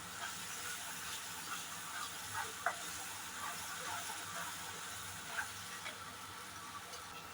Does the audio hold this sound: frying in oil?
yes